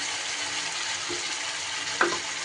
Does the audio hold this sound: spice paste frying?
yes